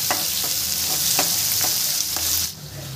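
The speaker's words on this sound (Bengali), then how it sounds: "পেঁয়াজটা আমি একটু লাল লাল করে ভেজে নেব।" Chopped onions and a bay leaf fry in hot oil with a dense, continuous sizzle up close, punctuated by periodic scraping stirs of a spoon in the pan, easing slightly near the end.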